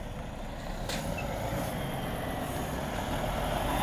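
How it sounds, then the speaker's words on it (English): A lorry arrives at the gate of an Arla Foods dairy site, a steady engine rumble with a short hiss like an air brake, heard from nearby without talk. "We've got a lorry coming in."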